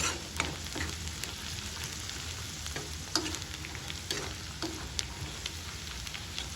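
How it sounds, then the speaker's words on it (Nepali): Steady oily sizzling of chow mein noodles being stir-fried, with sharp scrapes and clacks of a utensil against the pan every second or so. "जति भुट्यो त्यति मिठो हुन्छ कि चाउमिन बनाउँदा"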